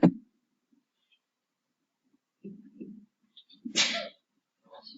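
A single sharp sneeze bursts out loudly in a quiet classroom, followed moments later by low murmuring voices and a second brief, breathy burst.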